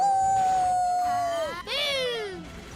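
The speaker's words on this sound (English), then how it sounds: "I have a feeling he's gonna howl in every single fight." Monster in Dragon Quest VII Reimagined letting out a long, loud tonal howl that holds steady, dips, then rises again and trails off in a second falling cry.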